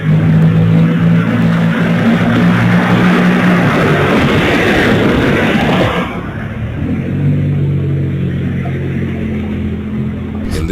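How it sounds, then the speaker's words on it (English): A Mercedes car speeds through city streets at night, a loud, sustained engine roar with a droning hum that swells and shifts as it passes close by, with no voices. "we hear gunshots and then that same Mercedes car speed through the streets"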